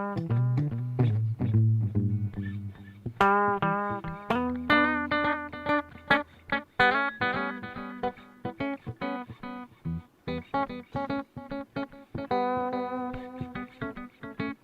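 An electric guitar playing plucked notes and chords through the delay side of an EQD Avalanche Run pedal with the reverb turned off, repeats trailing after each attack, close and clear with no voices.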